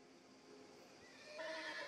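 A horse neighs in the video game Mafia The Old Country, a faint, drawn-out whinny rising toward the end of the short clip with no talking.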